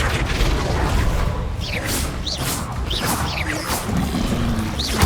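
A Flipendo spell cast in Hogwarts Legacy, heard as a sharp magical whoosh and burst with booming impacts, layered with bright swishing sweeps over a dense, busy game background.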